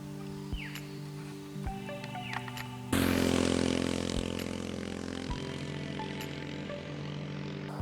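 Small plane on an estate's private airstrip: a droning propeller engine that swells abruptly into a loud, close roar, then holds steady and slowly eases off.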